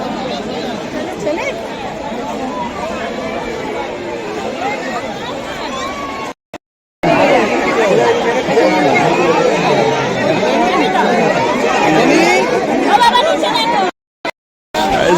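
A large Christmas Day crowd at Alipore Zoo fills the air with loud, continuous overlapping chatter and babble, broken by two brief silent gaps.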